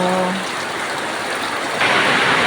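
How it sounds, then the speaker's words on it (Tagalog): Steady rain hisses evenly throughout, growing a bit louder and brighter near the end, with a faint low hum at the start. "Yan ang ating hinihintay, ulan."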